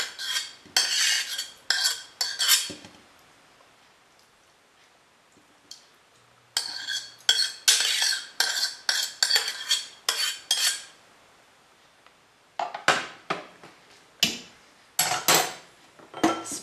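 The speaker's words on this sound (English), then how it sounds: "Now let's add our sauteed onion, and carrots, and garlic." Sautéed onion, carrots and garlic tipped from a utensil into a pot of buckwheat soup with ribs, giving repeated close clinks and scrapes of metal against the pot in short bursts separated by quiet pauses.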